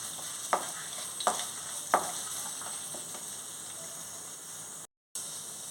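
Two spoons of sesame seeds frying in a pan for a cucumber chutney, with a steady hissing sizzle punctuated by a few sharp pops or taps early on, then a brief dropout near the end.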